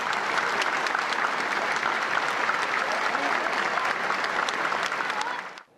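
Sustained audience applause fills a theater after a speech, a dense even wash of many hands clapping that holds steady for several seconds before cutting off abruptly.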